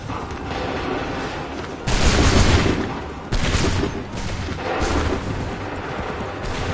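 Musket volleys in Assassin's Creed III roar out as dense, crackling bursts of massed gunfire, two big surges around a steady battlefield rumble with no voices.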